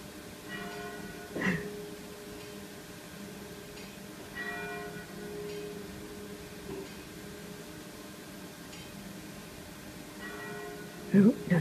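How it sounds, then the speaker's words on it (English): Church bells ring at a distance in Venice, between two churches, with a few soft strikes standing out over a steady low background hum, plus a louder clatter near the end. "The bells."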